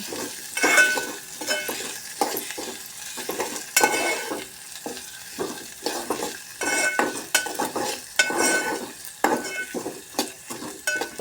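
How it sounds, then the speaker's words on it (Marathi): Chopped onion frying and being stirred in a pan while cooking a fresh green pea curry, with steady close sizzling and repeated scraping and stirring strokes throughout, no voices. "कांदा भाजून घेणे"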